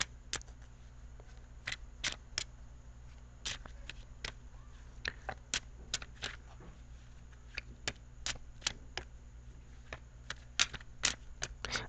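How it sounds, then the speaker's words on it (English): Tarot cards being shuffled in repeated short, crisp riffling bursts, close by, over a steady low background hum, with no talking. "I'm going to shuffle for your outcome card here"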